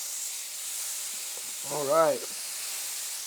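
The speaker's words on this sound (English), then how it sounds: "Let that sizzle for a little bit." Garlic and herb butter sizzles in a hot burger pan, a steady soft hiss running the whole time, with a short spoken remark in the middle.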